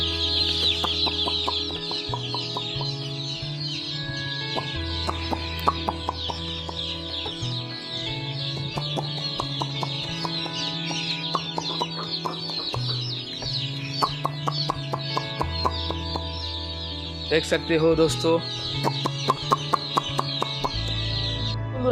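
Dense, constant peeping and cheeping from a large flock of about 1800 baby chicks on a poultry farm, with occasional louder clucks and a brief spoken phrase.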